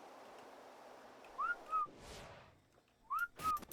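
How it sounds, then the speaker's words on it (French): Two whistle calls made in the video game Ark to summon a creature, each a pair of short rising-then-falling whistles, moderately loud against a quiet background with a soft whoosh between them. "J'étais trop loin pour le siffler."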